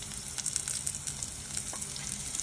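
Urad dal, onion, garlic and dried red chilli fry in a pan for Chettinad greens kootu, giving a close, steady sizzle with small crackles and light stirring and no voices.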